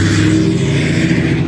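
A loud truck passing close by on a main road in Union Springs, its heavy engine roaring steadily and evenly for the whole moment, with no one speaking.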